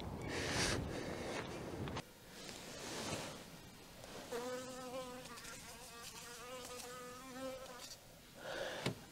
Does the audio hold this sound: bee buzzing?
yes